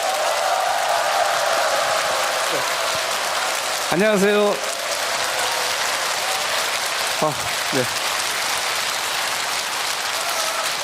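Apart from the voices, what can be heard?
audience applause welcoming a doctor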